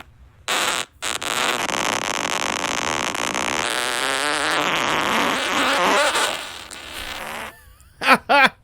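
An auto-tuned fart plays out as a long buzzing, pitch-shifted tone with warbling harmonics lasting several seconds, followed by a few short voiced blips at the end.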